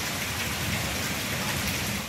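Heavy rain falling in a steady, dense hiss that stays loud and even throughout, with no voices present.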